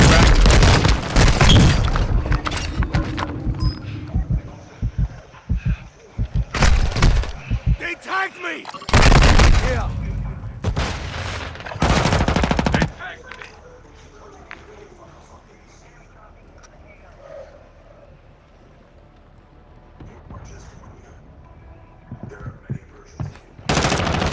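Loud, close automatic gunfire and heavy booming shots in Call of Duty: Modern Warfare II come in dense bursts, then thin out to scattered distant shots, while players talk over the action.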